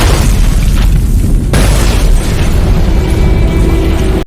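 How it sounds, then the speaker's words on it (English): A bomb detonates inside a house during a marine sniper battle, a loud, sustained rumbling boom with a sharp burst partway through, dense and close throughout. "suddenly a bomb exploded, killing all the troops in the house."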